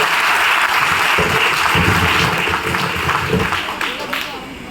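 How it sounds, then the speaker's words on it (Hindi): Loud, dense audience applause for Mr. Ravinder Kumar Singh at an income-plan business meeting, steady and close throughout, with a voice briefly audible within the clapping. "एक बार जोरदार जबरदस्त तालियां हम सबकी great upline mister Ravinder Kumar Singh ji के लिए"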